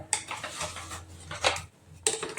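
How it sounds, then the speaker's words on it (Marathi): A spoon clinks and scrapes against a pot while milk with falooda mix is stirred, giving a few close metallic knocks with short pauses between them. "तर आता मस्त पैकी मला दहा ते पंधरा मिनिटांपर्यंत मस्तपैकी हलवत राहते"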